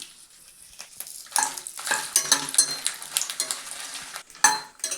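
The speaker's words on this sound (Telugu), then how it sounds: "ఇప్పుడు ఎండుమిరపకాయలు ఫ్రై అయిపోయాయి" Dry red chillies frying in a pan, a soft sizzle with scraping stirs and sharp clinks of a utensil against the metal coming in bursts, fairly close, with no voice.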